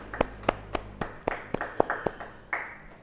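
A small church congregation gives scattered, uneven claps, about a dozen distinct hand claps spread over three seconds, close and fairly sparse rather than a full ovation.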